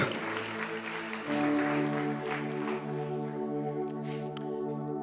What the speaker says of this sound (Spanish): Un aplauso a Chamcomán.